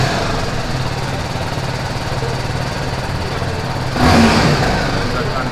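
A BMW G310 GS BS6 motorcycle idles close by with a steady engine rumble, then the throttle is blipped near the end for a brief louder rev; a voice talks over part of it.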